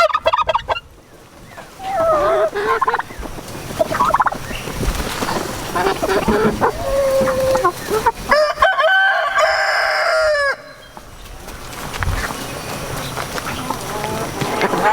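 Several chickens cluck and squawk close by as they are fed tomatoes, with a loud burst of excited crowing-like calls in the middle, over outdoor background noise.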